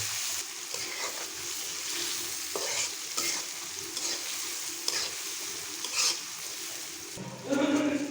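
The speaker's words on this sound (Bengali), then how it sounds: "গরম তেলে পেঁয়াজ পেঁয়াজগুলো ভালো করে ভেজে নেব" Onions frying in hot oil while being stirred for a country chicken and potato curry, a close, steady sizzle broken by repeated spoon scrapes and a louder clatter near the end.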